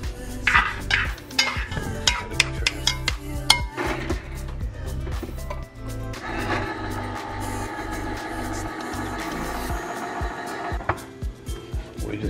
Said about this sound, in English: Heating up the oil and the onion and the garlic.